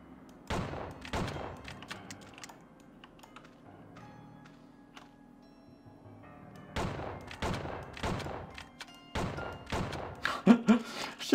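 Gunfire in the western video game Outlaws, scattered bursts of sharp shots at the start and again near the end with a quieter stretch between, while players talk over it.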